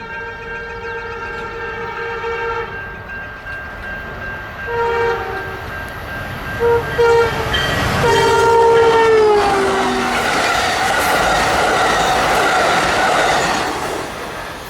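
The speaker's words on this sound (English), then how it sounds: "an ugly SC-44 with a terrible horn to whip by leading" An Amtrak SC-44 locomotive's horn blares in long sustained chords as it approaches leading a passenger train and roars past, wheels and rumble building to a loud close pass.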